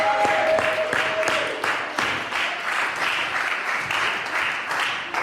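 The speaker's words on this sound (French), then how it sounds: "Est-ce qu'on peut acclamer le Seigneur?" A church congregation at a seminar bursts into sustained applause to acclaim the Lord, dense, loud clapping with cheering voices mixed in, continuing for several seconds without a break.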